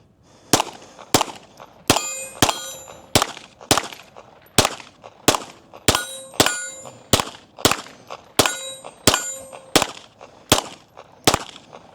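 Rounds from a Girsan Disruptor X pistol striking steel target plates, heard as a fast string of about eighteen sharp metallic clangs and pings in quick succession, each ringing briefly, with no talk over them.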